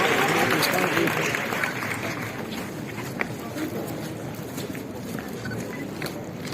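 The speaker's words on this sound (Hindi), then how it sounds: "आप उनका भी जोरदार तालियों के साथ स्वागत करें" A crowd at a women's health care event in Bihar gives a guest sustained applause, a dense wash of clapping that starts loud and eases slightly while a voice speaks over it.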